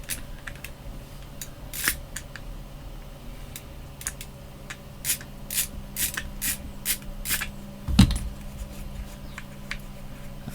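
Small fiddly clicks and scrapes come from a screw being backed out of an EOTech red dot sight during a teardown, close and quiet, spread irregularly across the clip.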